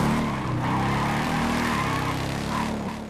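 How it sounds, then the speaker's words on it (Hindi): Harley-Davidson motorcycle engine in GTA 5, a steady low rumble that holds loud and continuous for about three seconds with slight pitch shifts. "इस हार्ले डेविडसन की आवाज़ सुनो ज़रा"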